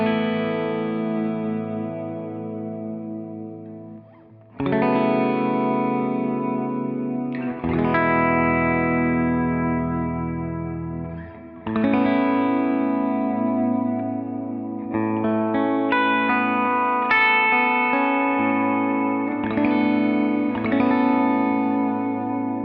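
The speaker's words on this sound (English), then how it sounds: "Okay, so that was the double tank. Good sounding reverb" Electric guitar through a Line 6 Helix double tank reverb, played alone in strummed chords and ringing notes with a lush, wide wash of reverb tails and some chorus-like shimmer, steady and fairly loud throughout.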